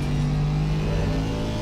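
Steady, loud engine drone of an Aston Martin or Ferrari 296 in a racing sim at Hungaroring, held under full throttle with a constant tonal hum and no voices.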